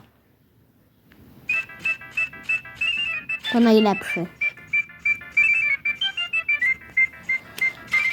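A power drill fitted with sandpaper whirs loudly while sharpening an electric fan part, in two long bursts of several seconds each, with a short pause between, then quiet background afterward.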